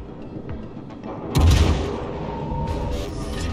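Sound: naval gunfire in video game World of Warships

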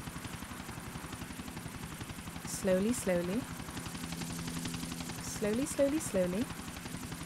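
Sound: helicopter landing on helipad in video game GTA IV

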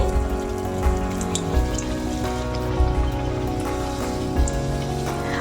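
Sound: luchi frying in hot oil

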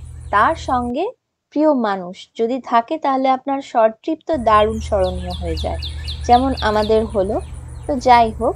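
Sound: birds singing outside a house by the forest

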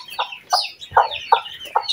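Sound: desi hen clucking

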